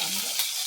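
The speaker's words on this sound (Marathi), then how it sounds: "कढीपत्ता घेतलेला आहे आणि तो असा टाकलेला आहे आणि कढीपत्ता चुरचूर" Curry leaves crackling and sizzling in hot oil in a pan, a brief bright spatter heard up close with no talk.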